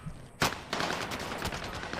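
Video game gunfire crackles in dense, continuous bursts, loud and close, with a sharp shot near the start followed by sustained rapid firing.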